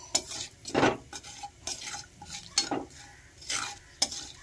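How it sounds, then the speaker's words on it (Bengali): Hot oil sizzles and crackles as cinnamon, cardamom and cloves fry, with bursts of stirring and light metal scraping against the pan, close and fairly quiet. "এবার ওই তেলের মধ্যেই আমি একটা দারচিনি, দুটো এলাচ আর দুটো লবঙ্গ ফোড়ন দিয়ে দেব"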